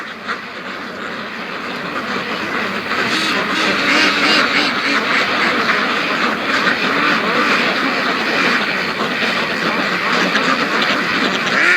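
A flock of free-range ducks, including Muscovy ducks, quacks loudly and continuously in a dense chorus that builds and stays steady throughout.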